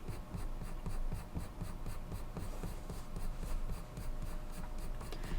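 Graphite pencil strokes rubbing across paper while drawing hair, a steady close scratchy rasp with quick repeated flicking strokes that continue without pause.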